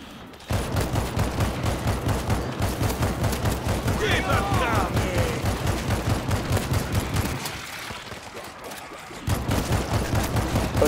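Sustained automatic and pistol gunfire in the zombie shooter World War Z, fast rhythmic bursts that run almost continuously, pause briefly near the end, then resume, with a player's voice talking over the shooting.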